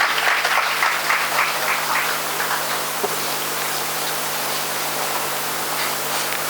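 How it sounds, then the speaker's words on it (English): An audience at a college orientation programme applauds in a steady, even wash of clapping that sounds almost like rain. A low hum sits under it, and one sharper clap stands out near the middle. "Please welcome them with a huge round of applause."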